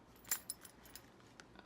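Keys on a six-key ring holder jingling, with a few faint, quick metallic clinks close by in an otherwise quiet room.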